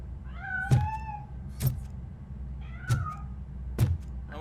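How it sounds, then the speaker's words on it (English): A cat meows several times in the video game RoboCop: Rogue City, with short mewing calls spaced irregularly over a low steady game ambience, and dull thumps landing alongside some of them. "I'm afraid this time it's a one-way street, Mr. Cat."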